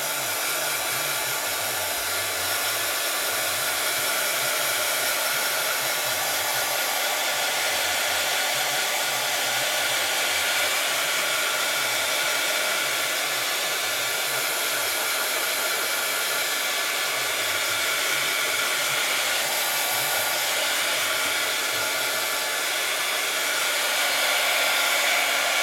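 Heat tool blowing steadily on a mixed media background on a handheld mirror, a loud continuous airy roar with no pauses throughout.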